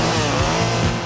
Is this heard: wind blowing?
no